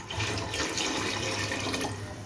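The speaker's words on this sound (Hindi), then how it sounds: "मैं 1 कप पानी इसके अंदर और ऐड कर दूंगी।" Water pours steadily into a pot of lentils, a continuous close gushing splash that holds without a break throughout.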